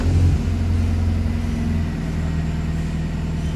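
A parked car sits on a ramp with the handbrake set and the gearbox in neutral as its engine cranks and starts, then settles into a steady, close, low idle rumble.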